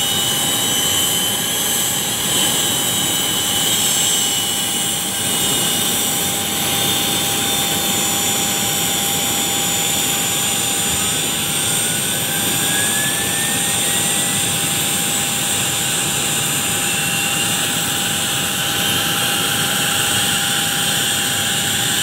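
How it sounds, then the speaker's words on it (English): Steady, continuous roar of a Gulfstream 150 business jet's engines running during passenger pickup, with a sustained high whine over broadband rumble, loud and unbroken throughout. "Engine."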